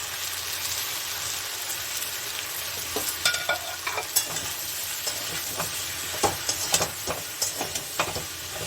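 Cumin, turmeric, Kashmiri chilli and coriander powders fry in a kadai with a quiet, continuous sizzle, and scattered stirring scrapes and clinks grow more frequent partway through.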